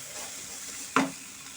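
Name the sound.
stirring frying peanuts in a pan after turning off the stove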